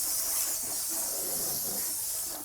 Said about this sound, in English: you can take a little hose like I have here, just a little bit, and spray it down